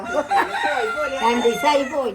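A chicken crows near the microphone in a short, rising-and-falling call, with voices faintly around it.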